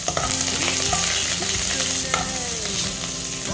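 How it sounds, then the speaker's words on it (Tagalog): Onions frying in oil in a wok-style pan while chicken in tomatoes is being cooked, a steady close sizzle with scraping stirs and a few clinks of a utensil on the pan, no talking. "may mantika na yung kawali natin. Ilagay na natin yung sibuyas"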